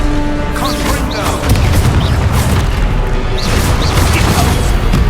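Repeated Confringo fire-blast spells bursting in the Hogwarts Legacy video game, loud booming impacts with crackling debris amid spell effects and game noise, a player shouting spell names over them.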